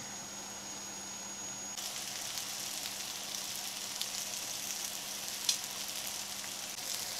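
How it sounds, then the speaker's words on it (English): Koi fish cooks on a hot grill, giving a steady, faint hiss of sizzling that stays even throughout, with no voices. "Now you have to leave the fish on the grill for 4 to 5 minutes to sizzle away nicely."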